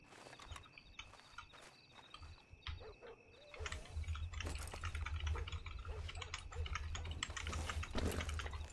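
Water trickles and splashes as it is poured in Red Dead Redemption 2 (RedM), starting faint and thin, then turning into a fuller, steady stream alongside scattered clicks and drips.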